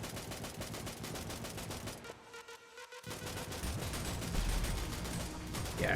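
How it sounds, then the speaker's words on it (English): Light machine gun in a twin-stick survival shooter game, firing in long dense bursts, loud and continuous, with a short lull partway before the rapid fire resumes. "maybe because I'm using a light machine gun instead of an assault rifle"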